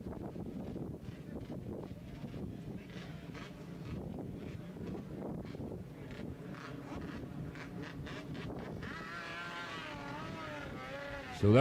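Classic racing motorcycles head out onto the circuit at a bike festival race meeting, a blurred engine rumble heard from a distance under heavy wind buffeting on the microphone, with a sharper engine note near the end.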